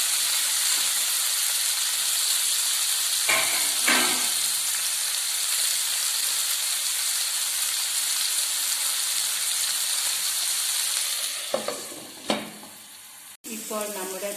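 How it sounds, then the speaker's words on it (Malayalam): Green beans with turmeric stir-frying in a pan for Central Kerala–style mezhukkupuratti: a steady, close hiss of frying with a few scraping stirs and clatters toward the end. "പയറും മഞ്ഞൾപ്പൊടിയും ചേർത്ത് നന്നായി ഇളക്കി മൂടി വെച്ച് ഉലത്തിയെടുക്കുക."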